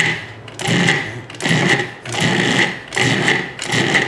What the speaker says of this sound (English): Pulse it till it looks like a coarse meal